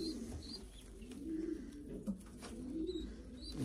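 Young racing pigeons coo in soft, low, repeated rolling calls, close by and continuous, with a few faint higher chirps in the background.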